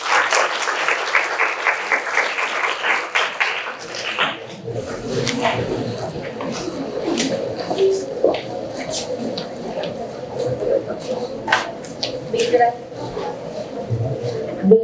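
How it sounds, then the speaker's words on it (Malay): An audience claps for a teacher after a talk at an SPM 2022 exam-preparation event, a dense burst of applause in the opening seconds that fades into room noise and scattered movement. "Berikan tepukan untuk beliau."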